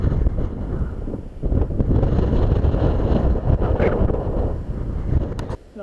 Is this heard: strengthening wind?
yes